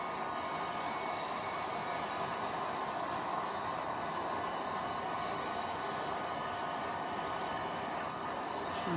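A heat tool blows steadily, warming an encaustic wax board with a constant, even airy roar throughout.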